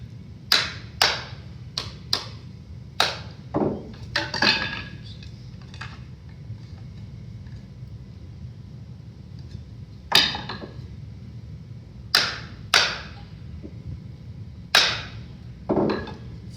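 Wedges tapped tight on a wooden vertical sliding window sash: sharp, close hammer-like knocks in irregular bursts, some doubled, with pauses between groups over a low steady background hum.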